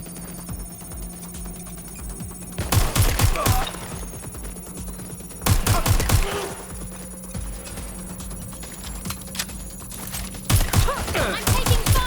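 Bursts of rapid gunfire in the Watch Dogs Legion video game come in three loud volleys over a steady background hum, with quieter game noise between them.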